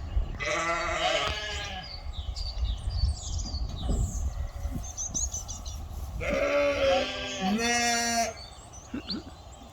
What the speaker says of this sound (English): And the sheep are all like, hey, what's happening?